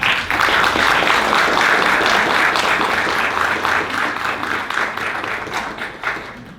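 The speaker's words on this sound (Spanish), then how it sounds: "Un aplauso, por favor" Audience applause at a book presentation, dense clapping from a room of people that starts strong, holds for several seconds, then gradually thins and fades out.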